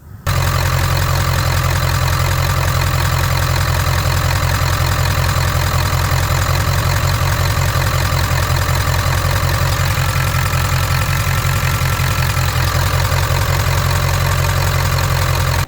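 A 1995 Ford F250 engine idles steadily and loudly up close after starting, a continuous low rumble with a faint knock running from start to finish.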